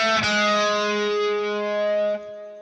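A short run of plucked electric guitar notes with a distorted edge, ringing out together and sustaining for about two seconds before cutting off.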